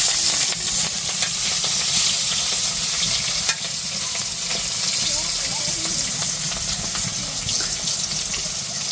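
Fish frying in hot oil in a karai, a steady loud sizzle running throughout with some stirring and scraping, low background noise and voices faintly underneath.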